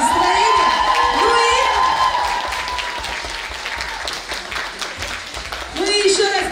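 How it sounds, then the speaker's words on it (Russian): Audience at a youth awards ceremony applauds loudly, with cheers and whoops rising over the clapping; the noise eases a little mid-way and swells again at the end, while a voice briefly speaks over it. "Давайте громче аплодисменты, отличного вам настроения."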